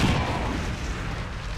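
A burst of incendiary fire erupts in XCOM 2 Long War 2, a brief rumbling boom that starts loud and tapers off into a noisy roar.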